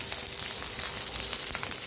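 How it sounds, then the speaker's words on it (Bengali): Chilli frying in a pan gives a steady bright sizzle, even and continuous for a short stretch, close by. "তো ভাজা লঙ্কাটা দিয়ে দিলাম।"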